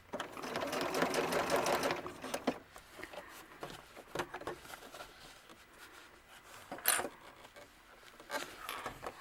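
A sewing machine stitches a fabric hat seam on a small doll-sized hat in a quick, buzzing burst, followed by softer clicks and handling of cloth and a second brief run of the machine.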